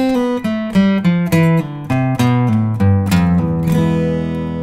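Solo guitar plays a song's lead line at a slow tempo, a close, bright run of evenly spaced picked notes and pull-offs that descends to a ringing low chord, with no voices.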